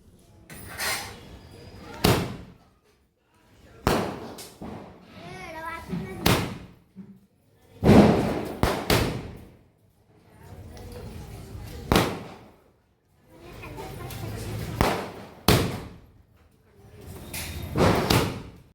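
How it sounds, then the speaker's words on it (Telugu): Thirty-shot Diwali firecrackers burst one after another, a sharp bang every second or two with a short echoing tail, somewhat distant, in daytime. "తను కూడా క్రాకర్స్ థర్టీ షాట్ పేలవడం స్టార్ట్ చేశాడు"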